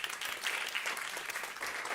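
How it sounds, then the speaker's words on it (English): An audience applauds steadily for a speaker returning to the stage at a food and planet conference, a dense wash of clapping lasting the full stretch with no voices. "Give her a round of applause"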